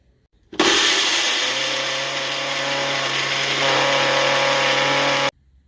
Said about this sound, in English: we'll put it in the blender